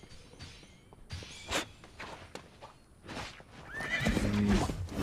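Horse named Jade moving in a competitive battle royale match, with a whinny and hoofbeat clip-clops amid game effects and rustling, growing louder toward the end.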